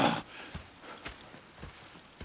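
Horse hooves clip-clop in the video game Red Dead Redemption 2, a few soft, evenly spaced steps with a brief rustle at the start and no clear neigh, quiet against a faint background.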